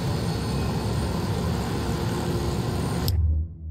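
A helicopter flying in the video game Ghost Recon Wildlands, a dense, steady rotor-and-engine roar that holds evenly and then cuts off abruptly near the end, leaving a short low hum.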